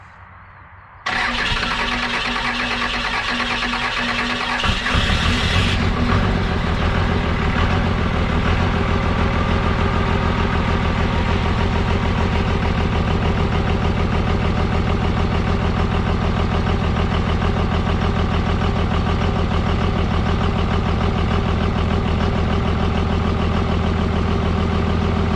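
A Cummins diesel engine cranks and catches, then idles loudly and steadily at about 750 rpm, running alone for over twenty seconds.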